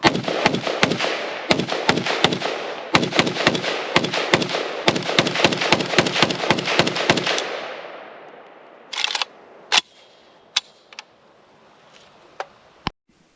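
A Romanian WASR-3 AK rifle chambered in 5.56 NATO fires a long string of sharp, loud shots at an outdoor range in quick, uneven bursts. A few more distant, isolated cracks follow after a pause.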